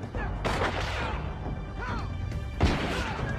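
Sharp gunfire from the TV show Firefly, a couple of loud, sudden bangs mixed with voices and other dialogue and effects from the show.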